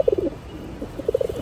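A Moyna jhak or Musaldom breeding pigeon gives soft, low, burbling coos in two short bursts, close by and fairly clear.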